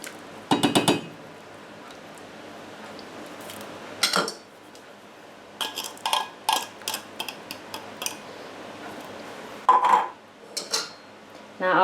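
Sweet corn goes into a pot of boiling chicken soup with scattered sharp metallic clinks and taps of a utensil against the pot, in short bursts separated by quiet gaps.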